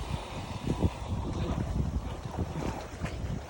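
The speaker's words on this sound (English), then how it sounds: "The wind has started blowing." Wind blows across Lake Horton, buffeting the microphone as a rough, low rumble that surges and eases steadily throughout, with no voices.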